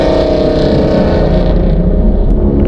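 Loud, close engine roar from a BMW and an SS street racing at a car meet, with a sustained high-revving drone held throughout.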